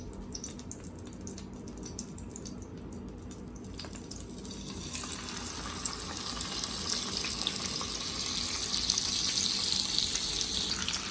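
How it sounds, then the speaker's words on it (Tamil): Marinated masala fish dropped into hot oil, a soft low rumble that swells about halfway into a steady, brighter sizzle and crackle, gradually louder with no talking. "இப்போ எண்ணெய் கொஞ்சம் சூடானதுக்கப்புறம் மெரினேட் பண்ணி வச்சிருந்த ஃபிஷ்ஷை அதில் போடலாம்."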